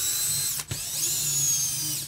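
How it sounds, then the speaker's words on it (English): A power drill whirs loudly and close during teardown of a Traxxas X-Maxx RC car, a high steady motor whine that briefly stops and restarts with a slight pitch change. "You can tell by the drill it's decent"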